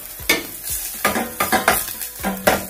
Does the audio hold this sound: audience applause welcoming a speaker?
no